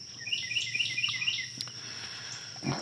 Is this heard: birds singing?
yes